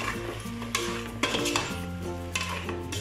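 A spoon stirs chicken tinola in a pot, with scraping and clinking strokes over a soft steady simmering sizzle, close and moderately loud, no talking.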